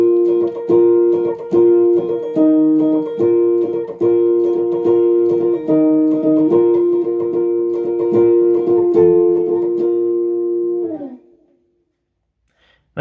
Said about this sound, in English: in the chorus we want to be doing double stops, so playing 2 notes at once, and it's going to sound a little bit like this